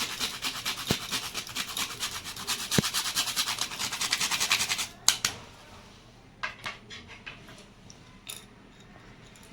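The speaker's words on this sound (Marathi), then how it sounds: "जायफळ थोडा किसून घ्यायचा" Nutmeg grated by hand, a fast, rhythmic rasping of close strokes for about five seconds, then a few scattered taps and scrapes.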